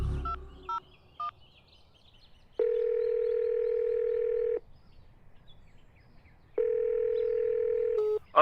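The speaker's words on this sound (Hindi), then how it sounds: "ठहर, अभी फोन मिलाता हूं।" A telephone being dialed: a few short keypad beeps, then two long steady ringback tones separated by a pause, heard clearly and alone.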